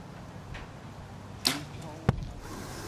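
A compound archery arrow released and striking the target at a World Cup competition in Berlin, two sharp brief impacts about half a second apart over quiet crowd ambience.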